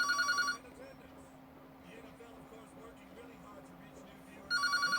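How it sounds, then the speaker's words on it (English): A telephone rings indoors in two bursts, one at the start and one at the end, with a quiet room hum between them. "We are letting the phone ring."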